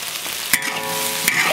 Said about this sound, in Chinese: 来炒一下